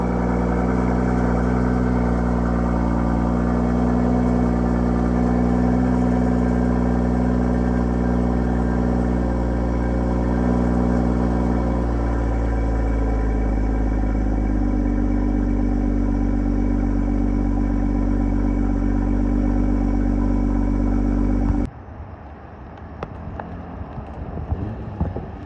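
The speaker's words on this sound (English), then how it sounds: "I'm going to input a clip right here of the stock cold start on regular mode and sport" A stock 2021 Toyota Supra 3.0 cold-starts and settles into a loud, steady, close-up engine rumble that holds for about twenty seconds, then cuts abruptly to a much quieter idle.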